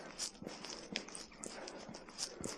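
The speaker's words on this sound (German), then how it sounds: "Und hier sind wieder ein paar schöne Pferdchen." Horses on an autumn walking trail clop along, with irregular hoof steps and rustling at a moderate distance, fairly faint against outdoor background noise.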